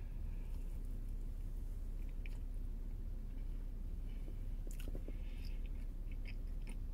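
Close, steady biting and chewing of a soft Krispy Kreme strawberry shortcake donut topped with strawberry sauce, with a few soft clicks of the mouth over a constant background hiss.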